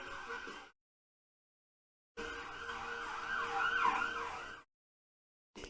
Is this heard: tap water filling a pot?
no